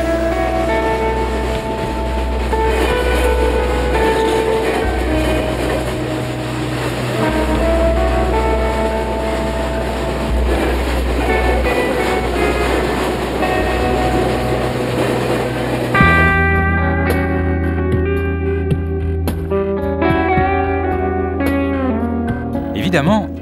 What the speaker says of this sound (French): Ce train titanesque transporte le fer à travers la forêt amazonienne